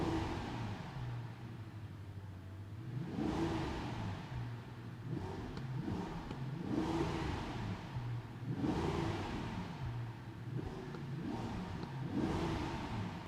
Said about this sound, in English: Let me just rev the car a few times for you.